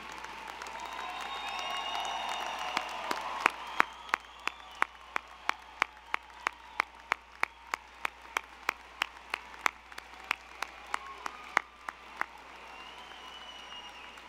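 Applause from friends and family at a North Central College commencement ceremony, a broad crowd wash with distinct, evenly spaced sharp claps standing out in a steady rhythm, moderately distant and tapering off at the end.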